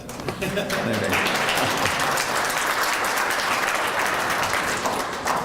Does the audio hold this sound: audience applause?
yes